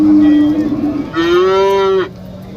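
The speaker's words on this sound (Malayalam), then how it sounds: "ചെറിയ രീതിയിലുള്ള കറവയുള്ള പശുക്കളാണ്" Dairy cows at a large cattle and buffalo market in Kerala let out two long, loud, close moos back to back, the second rising slightly in pitch before cutting off.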